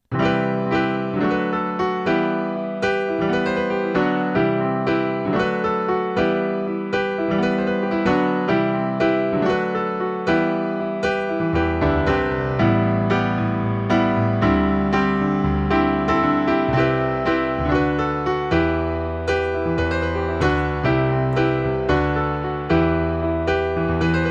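Solo piano plays the flowing, repeating main riff of a song with steady rhythm, joined partway through by deeper bass notes, clear and close.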